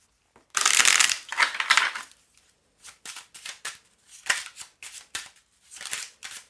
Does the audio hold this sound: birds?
no